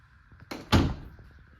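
A door being set in place at a laminate-floor threshold gives a brief rattle, then a single solid thunk as it closes, near and fairly loud against a quiet room.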